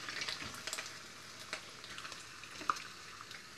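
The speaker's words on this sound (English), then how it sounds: "Now we are going to fry teri first." Anchovies (teri) frying in a pan for chili fried rice, a faint, steady crackling sizzle with scattered sharp pops, heard alone without talk.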